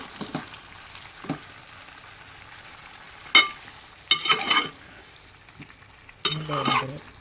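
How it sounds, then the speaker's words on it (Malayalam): Ginger garlic paste fries in a pan with a low sizzle, broken by a few sharp scrapes and clinks of a spoon stirring it, close and intermittent, with no talking. "ഇതേമാതിരി ഇളക്കിയിട്ട് കൊടുക്കണം. ഇഞ്ചി വെളുത്തുള്ളിൻ്റെ മണം മാറുന്നത് വരെ."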